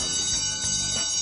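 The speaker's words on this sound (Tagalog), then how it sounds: "kaya't muling ipinarinig ang school bell" A school bell rings at a school before the flag ceremony, a continuous bright metallic ringing held loud and steady for the whole short stretch, with no voices over it.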